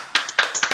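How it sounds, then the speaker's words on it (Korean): Students end a class with a short burst of clapping. A few sharp, uneven claps follow one another quickly in a quiet room. "자, 우리 박수 한번 치고 끝낼까요?"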